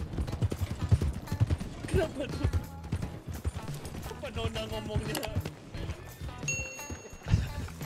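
Horse hooves clip-clop in a steady, near rhythm in Red Dead Redemption roleplay, with people talking over the hoofbeats throughout.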